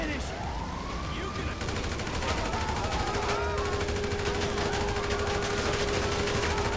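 Rapid AK rifle gunfire rattles in a dense, continuous burst during GTA 5 gameplay, mixed with a wailing siren and loud game noise throughout.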